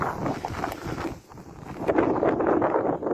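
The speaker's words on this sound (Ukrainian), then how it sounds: "Ой, вітер сильний" Strong wind buffets the microphone in loud, rough gusts, dipping briefly before surging back harder.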